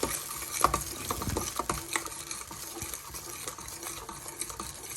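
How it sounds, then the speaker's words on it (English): Aubergine curry with masala is mixed in a pan, with close, soft scraping and stirring strokes over a faint background sizzle. "I'm gonna mix it all well, very properly"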